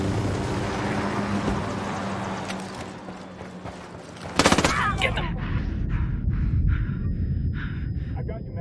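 Video game gunfire during a squad firefight: a dense crackling burst of rapid shots rings out midway through, set against a steady rumble of background noise and scattered mechanical clatter.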